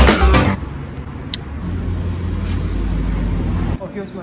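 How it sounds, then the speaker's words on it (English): A car pulls up and idles with a steady low engine rumble, bracketed by short louder bursts of noise at the start and end, heard nearby outdoors. "Oh, here's my car."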